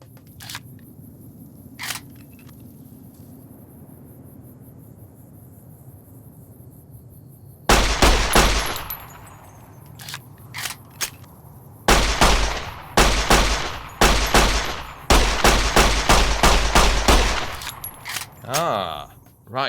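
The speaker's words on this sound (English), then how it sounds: "This is his gun. This is his Browning high power." Browning Hi-Power pistol shots ring out in the video game Fallout: New Vegas, first a lone crack, then rapid loud bursts of sharp reports with short gaps, starting after a quieter opening.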